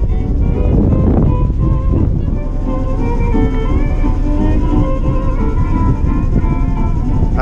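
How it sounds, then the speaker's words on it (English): A boat engine runs steadily while charging batteries, a dense low rumble that holds at the same level throughout, close by with no break. "I've got my engine on at the moment,"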